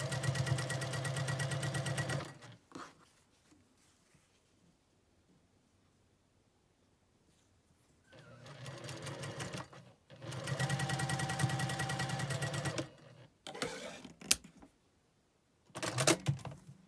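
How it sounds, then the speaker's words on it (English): A sewing machine stitches a four patch quilt block, running in two long steady bursts and then a few shorter ones. Its fast, even mechanical hum is close and clear, with quiet gaps between runs. "And sew these just the same way you did that original four patch block."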